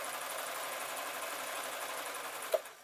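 A sewing machine runs steadily as it stitches a seam on toddler shorts, giving a fast, even mechanical whir up close, with a small click near the end.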